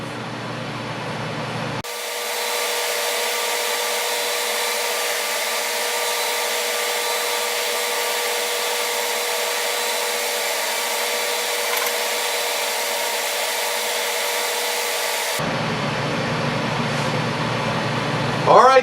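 A steady, continuous whirring hum with an even rasp as a pen is sanded with progressively finer grit pads, running unbroken for most of the stretch before stopping abruptly near the end.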